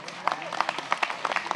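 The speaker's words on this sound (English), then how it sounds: "Big round of applause." Audience at an animal protection bill event applauds, a steady patter of clapping heard from some distance, moderately quiet with crowd murmur underneath.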